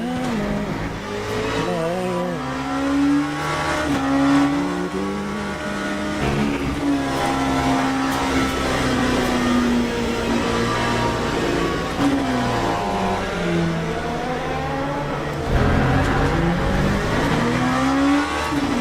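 A race car in a sim-racing game screams through a lap, its engine rising and falling with gear changes as it brakes and accelerates through corners, loud and continuous with occasional tire squeal.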